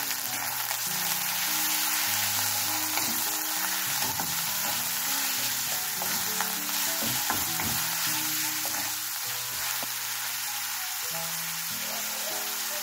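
Chicken pieces fry and sizzle loudly in a pan while being stirred, with a steady crackling hiss throughout and repeated scraping stir sounds; no talking.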